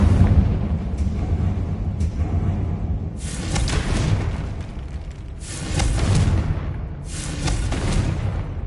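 Repeated Confringo explosive spell blasts in Hogwarts Legacy, three or four booming fiery bursts arriving every couple of seconds, each with a sharp crackling onset over a continuous low rumble of game noise.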